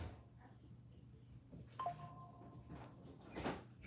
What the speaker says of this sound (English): Front door open.